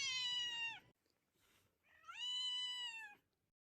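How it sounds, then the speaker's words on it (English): A deaf cat lets out two long, loud meows close up, the second rising in pitch and held, with a short quiet gap between them. "This cat is completely deaf, so she's always surprised when her owner greets her."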